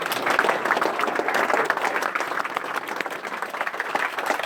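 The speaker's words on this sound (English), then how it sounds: "I want a big applause for Matthijs" Audience applause at a Smart Manufacturing and Robotics event in Delft, honouring a former student: dense, steady clapping from a sizable crowd, sustained loudly for the full stretch without pause.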